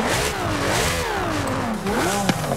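A Lamborghini Aventador in Forza Horizon 5 revs hard and continuously, its engine note rising and falling through several loud sweeps with a bright, raspy exhaust tone.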